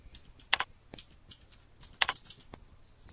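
Keys clatter on a computer keyboard while an invoice is entered into maintenance software: light scattered taps, with two sharper clusters of clicks standing out, close and alone.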